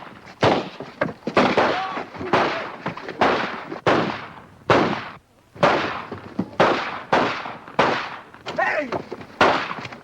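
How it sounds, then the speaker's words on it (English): Rifles fire rapidly at target practice in a 1942 film, about fifteen sharp, loud cracks in a steady, evenly spaced run, each with a short echoing tail. "I suggest a few rounds of rapid fire"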